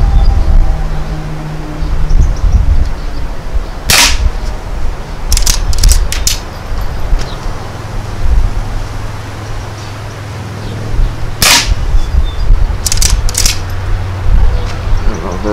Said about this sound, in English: I got to fire 5 rounds